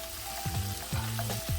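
Mushrooms, bell pepper and other vegetables sizzle steadily in a hot pan for cheesesteak hoagies, with soft stirring scrapes and clinks over the frying hiss.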